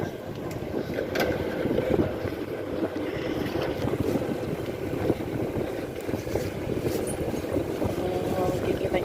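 Gusty wind roars outdoors in a city in Dubai, a steady broadband rush buffeting the microphone with low rumbles throughout.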